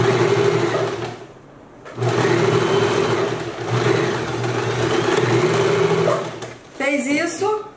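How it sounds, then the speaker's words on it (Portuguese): A sewing machine stitching a fabric duck-bill face mask runs in long steady whirring bursts, loud and close, pausing briefly between runs, with a higher whine near the end. "Vem aqui e costura dos dois lados, tá?"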